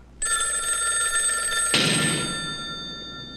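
Telephone ringing in a film scene, a loud sustained electronic bell tone that starts abruptly and continues with a burst of noise partway through, no speech.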